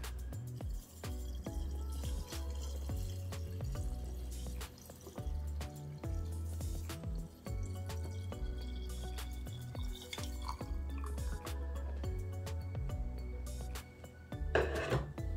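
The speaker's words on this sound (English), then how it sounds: "Adding another Scotch bonnet at the top. Adding the vinegar." Vinegar poured into a bottle holding Scotch bonnet pepper sauce for Jamaican escovitch, giving a soft continuous trickle with faint drips and glassy clinks, close and quiet, with no talking.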